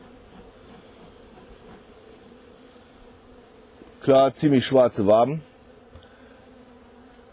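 A small honeybee colony in a Bienenkiste hive, opened at the honey chamber while smoke is applied, hums as a faint, steady drone beneath someone speaking German close by.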